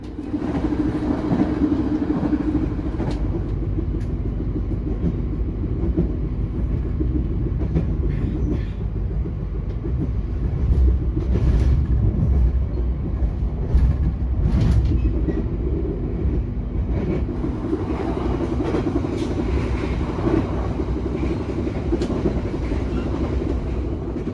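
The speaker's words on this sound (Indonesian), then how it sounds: "Ya, kita sudah masuk di Cikampek dan di sini kita melintas langsung stasiunnya." Heard from inside a passenger train bound for Jogja, a continuous loud rumble and hum runs while the train passes straight through Cikampek station. Rhythmic wheel clicks and brief rattles stand out toward the middle, with no talk.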